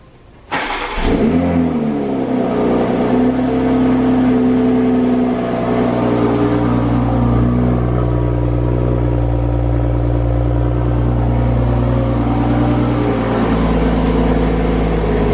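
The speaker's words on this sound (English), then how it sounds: "right now I'm gonna cold start on the Supra." A 2020 Toyota Supra on its stock exhaust cold starts with a sudden loud crank and bark, then settles into a high, steady, rumbling idle that holds close and strong for over a dozen seconds.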